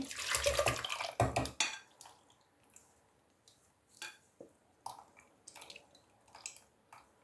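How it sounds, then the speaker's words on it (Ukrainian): Liquid poured from a vessel back into a kitchen saucepan while making red currant sauce for meat: a loud, close splashing pour in the first second and a half, followed by scattered clinks and light knocks of dishes. "Переливаю назад до каструлі."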